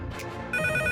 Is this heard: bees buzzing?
no